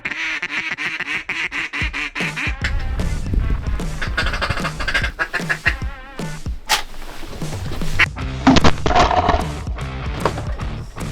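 Wild ducks on the water during an opening-day duck hunt quack loudly and repeatedly, with several birds calling in rapid overlapping bursts close by on a windy day.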